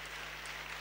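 A church congregation claps, a brief, faint wash of dense applause under a hum.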